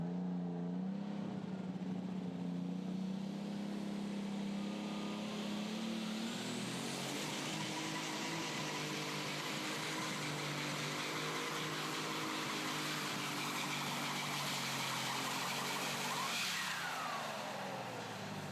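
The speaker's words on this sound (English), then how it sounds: "Mike Sandiford coming up here next on a tractor called Farm Boys Fantasy." A powerful pulling tractor engine roars loudly and continuously at a tractor pull in Goshen, Indiana, its pitch climbing and then holding at full throttle for a long stretch.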